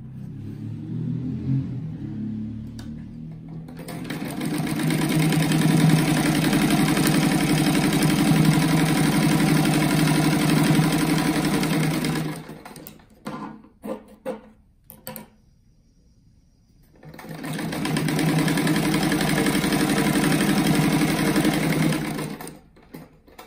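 A sewing machine stitches a fabric pencil-shaped mat in loud, continuous whirring runs close by, with a stop-and-start stretch of short bursts in the middle before another steady run.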